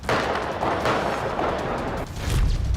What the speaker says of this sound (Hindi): 100 राउंड से ज्यादा फायरिंग।